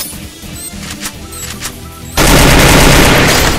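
Automatic gunfire in the mobile battle-royale game Free Fire, with a grenade throw at the start: scattered shots and clicks give way after about two seconds to a sudden, sustained loud roar of rapid fire and blast noise.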